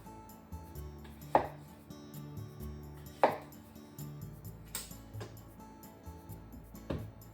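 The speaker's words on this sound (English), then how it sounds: "Cut the top off. Let's make 4 thick slices." A knife cuts a vegetable for oden hot pot into thick slices on a board, a few distinct chops spaced about a second or two apart, close but quiet, over soft background music.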